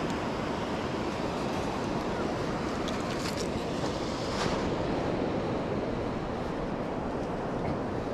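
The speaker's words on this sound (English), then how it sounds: "The tide was really there. It's running fast." Surf from a fast-running tide on the beach at Ogmore-by-Sea roars in a dense, steady wash, with wind buffeting the microphone and a slight swell midway.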